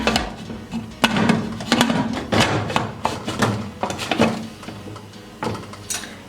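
A metal lid is fitted onto a pressure cooker pot of chicken and potato curry, giving a series of close clanks, scrapes and knocks spread over several seconds, no talking.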